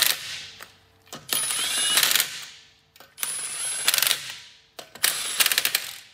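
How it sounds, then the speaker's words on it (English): An impact wrench snugs down lug nuts on a Ford Taurus rear wheel in three separate loud, rattling bursts, each roughly a second long with brief pauses between, close by and with no talking. "And then we can go ahead and just snug them down with the impact."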